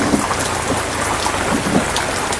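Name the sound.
rain and thunderstorm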